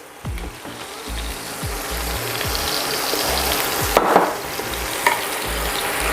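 Ground beef frying in its own oil in a pan for shepherd's pie, a loud, close sizzle under repeated scrapes and thuds of a spatula pushing the meat aside, with no talk.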